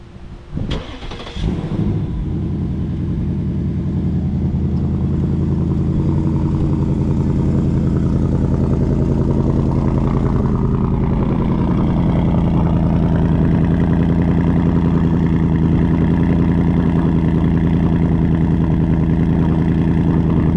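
A 2024 Ford Mustang Dark Horse V8 with quad exhaust tips cold-starts: a sharp starter crank and catch, then a loud, steady, deep idle that holds near and strong, with a slight settling shift partway through.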